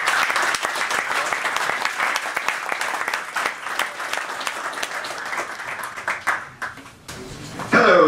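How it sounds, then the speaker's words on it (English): An audience at a DemoCamp tech presentation event in Calgary gives a dense round of applause that stays steady for several seconds and then tapers off, with a brief burst of clapping returning at the end. "Round of applause."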